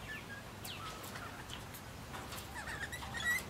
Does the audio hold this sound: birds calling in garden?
yes